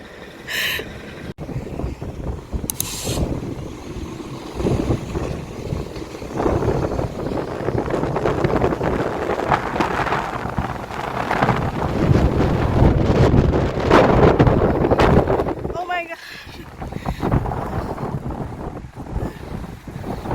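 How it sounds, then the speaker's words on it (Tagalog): Strong wind during a wind warning in Canada buffets the microphone in continuous loud gusts, with a broad rushing roar that rises and falls and briefly drops out near the end. "Pero, sobrang lakas ng hangin ngayon."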